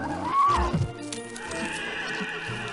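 In a video game, a horse gives a loud rising whinny near the start and then settles into soft clip-clop hoofbeats with low rumbling underneath. No voices are heard.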